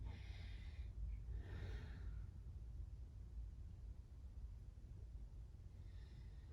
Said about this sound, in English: Just taking big, deep inhales and exhales.